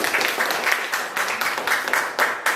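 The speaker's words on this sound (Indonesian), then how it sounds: "Aplaus betul." Audience applause in a meeting room, a short burst of dense hand clapping with pulsing rhythm, moderately loud and continuous throughout.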